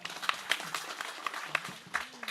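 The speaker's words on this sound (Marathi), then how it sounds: "टाळ्या वाजवा की थोड्या." An audience at a kirtan clapping in a loose rhythm, a run of sharp claps close by over a low crowd murmur, with a brief tonal sound near the end.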